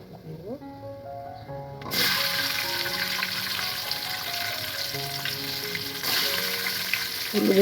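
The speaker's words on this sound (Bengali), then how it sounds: "এই যে রসুনগুলি আমি অল্প আঁচে ভেজে নিব" Garlic frying in oil on low heat in a pan for a garlic, amla and olive pickle, a steady close sizzle that jumps louder partway through and again near the end, with brief clinks and some voice.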